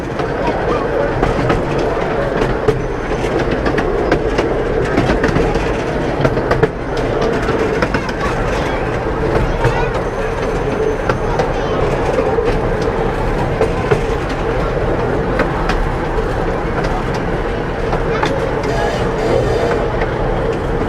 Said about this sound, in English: here we go on the Lightwater Valley Express then, the Rio Grande